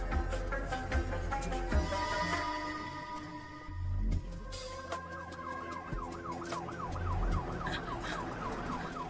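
An ambulance siren wails nearby, its rising and falling tone cycling steadily over rumbling traffic and street noise.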